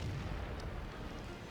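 Centurion Mk.1 tank cannon firing in a tank video game, a deep booming blast that rolls on as a low rumble, with no talk over it.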